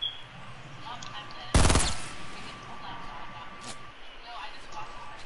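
A single loud gunshot cracks out in a Fortnite match, fired at the player, over a low background hum with a few faint distant blips.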